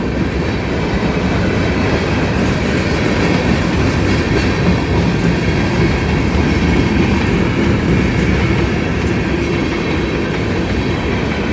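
A mixed freight train rolls past near a railroad crossing, a loud continuous rumble of wheels with clickety-clack and occasional faint squeal, steady throughout with no voices.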